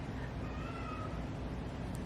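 A house cat meows close by, a short vocal cry over steady low background noise, with no other voices.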